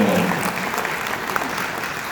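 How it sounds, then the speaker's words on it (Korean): Steady applause from an audience at a political seminar in a hotel fills the whole stretch evenly, a dense wash of clapping hands. "김희현 전 당대표님 힘찬 박수로 보내주십시오"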